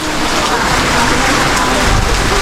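Heavy rain with wind pouring steadily, a dense continuous hiss and patter on surfaces, loud and close with no pauses.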